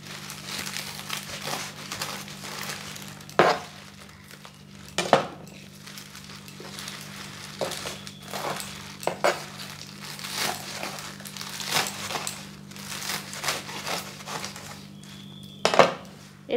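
A knife cuts washed leafy greens into large pieces, with repeated sharp chops against a board mixed with crisp crinkling and light clinks of dishes over a steady low hum; no one speaks.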